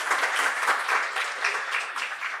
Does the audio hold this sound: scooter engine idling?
no